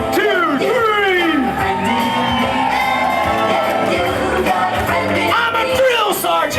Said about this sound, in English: all of us are going to cheer so loud it's going to make Sean want to smile